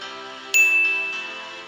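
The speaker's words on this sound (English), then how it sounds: "Every time a bell rings, an angel gets his wings." A bell rings as a radio theatre sound effect for It's a Wonderful Life, a single bright struck ding that rings out loudly and decays slowly over a sustained tone.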